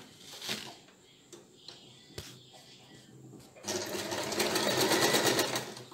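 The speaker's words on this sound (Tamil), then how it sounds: "இதே மாதிரி இங்கேருந்து இப்போ தையல் போட போகிறோம்." A sewing machine stitching fabric pieces together, with a few quiet clicks and handling noises before the motor starts and runs in a steady, close, continuous whir.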